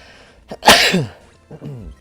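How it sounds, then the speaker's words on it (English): A single loud sneeze with a sharp intake and burst, followed by a softer trailing exhale a moment later, close up. "Sorry, I'm about to sneeze."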